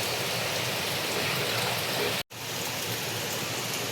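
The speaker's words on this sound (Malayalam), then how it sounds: "അരപ്പ് തിളക്കാൻ തുടങ്ങിയിട്ടുണ്ട്." Masala paste with tomato simmering in a pot, a steady dense bubbling hiss that fills the clip, briefly cut off by a short gap partway through.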